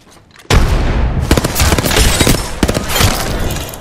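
A frag grenade detonates in Apex Legends with a sudden loud close blast, followed by crackling debris and a few sharp gunshot-like cracks as the noise rolls on.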